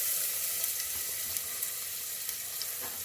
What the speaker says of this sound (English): I start sauteing these up